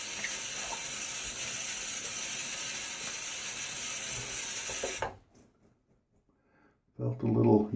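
Water from a tap rushes steadily into a sink to rinse a razor during a shave, then stops abruptly, followed by a short silence and a brief splash of handling.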